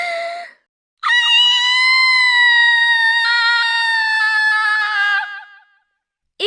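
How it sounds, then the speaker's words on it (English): A little ghost lets out a long, piercing, blood-curdling scream, loud and sustained with a high tonal wail that holds steady for about four seconds before trailing off, preceded by a short breath-like sound. "It was a blood-curdling scream."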